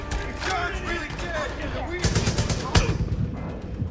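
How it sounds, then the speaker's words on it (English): An enemy machine gunner fires bursts in the Far Cry 5 mission Quality of Mercy. Rapid automatic fire rattles throughout at close range, with a sharp louder shot near the end. "I have another damn machine gunner."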